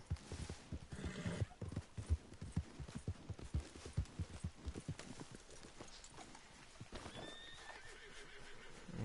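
In Red Dead Redemption 2, horse hooves clip-clop steadily throughout, with a loud whinny partway through and a game-style electronic soundscape underneath.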